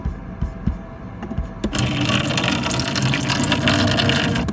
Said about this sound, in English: That's the water onto the empty spinach container.